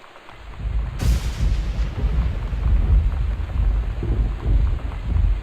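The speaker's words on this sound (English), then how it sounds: "thunder is so freaking loud" Loud thunder crashes in over a steady rainstorm, a sharp burst followed by long rolling rumbles that carry on across the whole stretch, with no one speaking.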